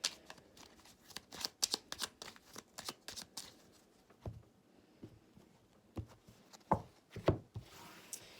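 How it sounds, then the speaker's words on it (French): Tarot cards being shuffled by hand, a series of crisp riffling and patting bursts with short pauses between them, close and fairly quiet, with no talking. "je vais continuer à battre les cartes"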